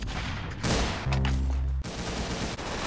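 Loud in-game gunfire in Roblox Arsenal: a couple of sharp, heavy shots crack close up over busy game sounds, with no voices.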